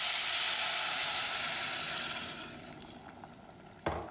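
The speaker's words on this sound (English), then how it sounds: "Add your rice. You want to coat it and just cook that like that for about a minute." Rice coated in butter with a teaspoon of turmeric sizzles dry in a pan for a yellow rice side to a cauliflower and chickpea curry, a steady close hiss that fades slightly, ending with a brief louder crackle.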